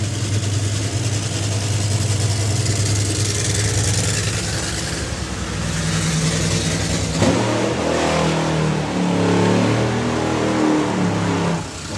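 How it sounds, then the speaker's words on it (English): Nitro drag racing cars doing burnouts, a continuous loud roaring engine blast that churns steadily throughout, with engine tone shifting partway through as revs rise and fall. "Two very good, strong burnouts from Jason Phelps and Kevin Kent."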